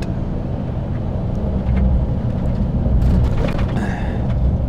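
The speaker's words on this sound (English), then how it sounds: "I have to go by a toll road right now, so that's why you hear me slowing down right about now." A semi truck slows as it approaches a toll road, giving a low, continuous engine and road rumble from inside the cab with slight swells in level and no talk.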